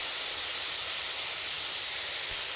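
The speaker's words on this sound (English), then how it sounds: "You can see the pressure drop when the steam comes out." Steam released from the wand of a Gaggiuino-modified espresso machine at about 12 bar, a loud, steady, close hiss that holds unbroken throughout, with no talk.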